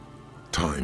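Steady rain falling in the rainy city of Martinez in the game Disco Elysium, a soft hiss that swells suddenly halfway through into a louder, fuller downpour.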